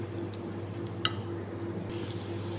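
Meat and spices stirred in a pot for biryani, with a steady low hiss and sizzle under soft scraping and a single small clink near the middle, close by and without talking.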